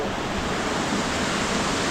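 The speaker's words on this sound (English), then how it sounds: "The Waterfall Cascades." Tumalog Falls in Cebu, Philippines, cascading in a dense, steady roar of falling water, loud and close with no break.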